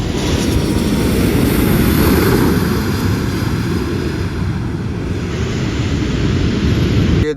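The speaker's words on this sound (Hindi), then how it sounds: "अभी वो प्लेन उड़ने वाला है" An airliner bound for Brisbane takes off on the runway at Nauru, heard from the runway's end as a loud, sustained engine roar that stays steady throughout.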